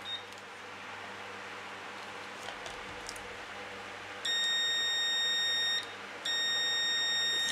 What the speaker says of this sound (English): So now we can test for continuity. You won't need to see that because you'll hear it.